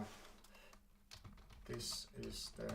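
Brief bursts of computer keyboard typing, the keys clicking in short clustered runs within a quiet room, with some background voice or noise in between.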